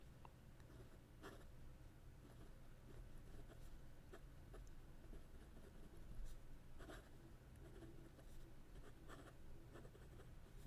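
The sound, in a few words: fountain pen nib writing on paper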